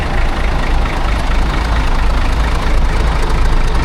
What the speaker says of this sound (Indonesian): suara mesin itu halus tuh teman-teman